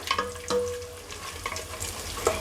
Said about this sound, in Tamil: எல்லாம் பொரியட்டும்